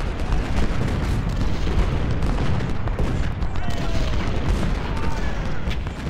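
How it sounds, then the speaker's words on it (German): Cannon artillery fire in the Civil War strategy game Ultimate General: Civil War, a dense, continuous rumble of booming shots and crackling volleys layered over one another throughout. "Kanonen, darauf feuern."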